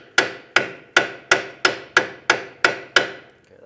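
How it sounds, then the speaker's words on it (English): A hammer drives a pry bar into the slot of a 2003-2007 Nissan Murano steering knuckle, nine sharp metallic strikes at a steady, even pace, close and loud with no talking. "take a pry bar, stick it right in between the where the slot is in the knuckle, and I'm going to try to hammer it in."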